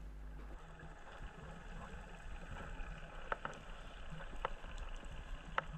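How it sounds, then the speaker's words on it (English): A muffled boat engine drones steadily from above, heard underwater by a scuba diver, with scattered small clicks and crackles around it. "There's the reassuring sound of the engine from the boat above my head."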